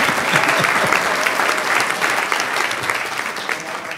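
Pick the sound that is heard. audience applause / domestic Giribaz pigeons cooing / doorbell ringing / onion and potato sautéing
audience applause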